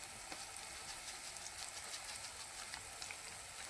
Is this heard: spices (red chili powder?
yes